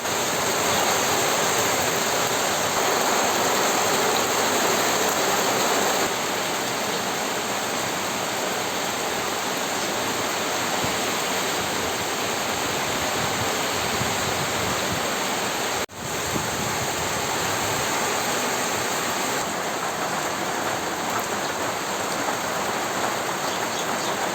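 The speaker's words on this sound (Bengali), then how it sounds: "এই যে টিনের চালে বৃষ্টি পড়তেছে বৃষ্টি পড়ার যে শব্দ" Heavy rain drums on a tin roof in a village setting, a loud, dense, unbroken hiss of countless drops that barely changes over the whole stretch, with one brief dropout midway.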